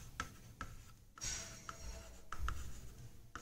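A pen writes an answer by hand on paper, giving close, soft scratching strokes with short taps between them, irregular in rhythm and without talk.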